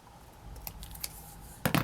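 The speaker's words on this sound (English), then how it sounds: "I haven't quite cut this bit." Scissors snipping paper for a crumpled butterfly craft, a few faint cuts and then a louder, closer double snip near the end.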